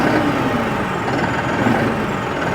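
New Holland 5620 TX Plus CRDI tractor engine held at a loud, steady revved drone, close by and unbroken, with no speech over it.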